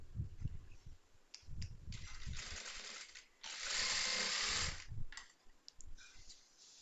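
A sewing machine stitches a churidar in short bursts of rapid mechanical whirring, the longest run near the middle, separated by pauses and faint handling noises, quiet and close.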